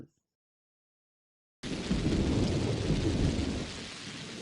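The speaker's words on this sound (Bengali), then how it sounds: "প্রচন্ড বৃষ্টি হচ্ছে" Heavy rain with thunder starting abruptly after silence, a loud dense roar of downpour with deep rumbling underneath, steady and close until the end.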